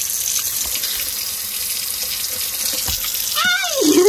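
Liquid being poured out of a container, a continuous splashing trickle running steadily throughout, closing with a brief rising gurgle near the end.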